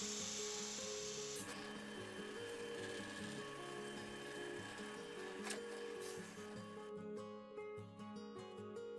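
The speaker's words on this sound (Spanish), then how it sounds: "Una vez puesto a punto el taladro y la broca, procederé a realizar los cortes" Steady grinding of a hole saw on a drill press biting into wood, cutting circles, a continuous harsh rasp with motor whine, ending in a lighter rattling spin.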